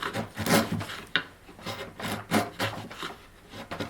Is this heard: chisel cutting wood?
yes